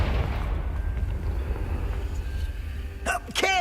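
A Confringo blasting spell explodes in Hogwarts Legacy, a heavy rumbling boom that rolls on at steady loudness and fades, with a short voice breaking in near the end.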